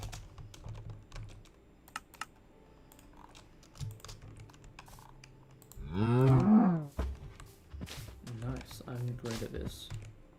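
A Minecraft cow moos once, a single drawn-out low call, amid rapid keyboard typing clicks and a person talking softly.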